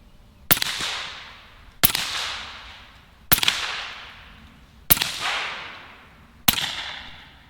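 Five sharp, loud gunshots from a Western Rattler .357 bullpup fired at a target, evenly spaced about 1.5 seconds apart, each a crisp crack followed by a short decaying echo, with no talking.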